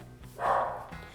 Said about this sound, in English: Sorry for the background noise of my dog barking.